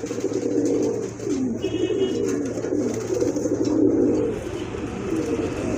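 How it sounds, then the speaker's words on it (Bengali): Several healthy pigeons in a coop coo close by, a steady, overlapping, low throaty murmur that rolls on without a break. "মাশাআল্লাহ কবুতরগুলো কিন্তু অনেক সুস্থ আর হেলদি কবুতর"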